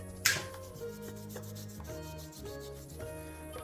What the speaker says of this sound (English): all I have to do is really sand it out